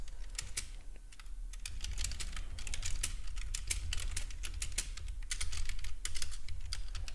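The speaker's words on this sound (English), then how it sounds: "I can't really type and talk at the same time." Rapid typing on a computer keyboard at a trading desk: a continuous stream of crisp, close key clicks in irregular bursts over a low steady hum.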